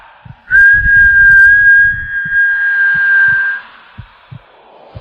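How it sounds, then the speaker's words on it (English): A long, steady, high whistle, whistled by a ghostly figure through its raised hand, holds for about three seconds, loud and eerie, over low dull thumps. "It raised a long, bony hand and whistled."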